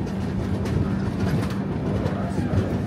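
The Howrah Mumbai Mail, train 12321, rolls on from Manmad Junction, heard from on board as a steady, close rumble of wheels and coaches, with no talking.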